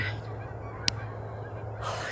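A bird gives one sharp, loud honking call close by, a single brief squawk over a steady low hum, then quiet; no one talks.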